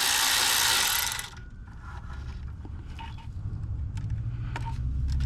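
A ratchet on a long wobble extension turns out EGR valve bolts on a Jeep Wrangler: a loud burst of clicking at the start, then quieter scattered mechanical ticks over a low hum.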